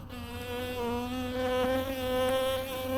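Honey bees buzz in a steady, loud drone close to the open hive during an inspection, a dense continuous hum with slight swells in pitch, with no talking over it.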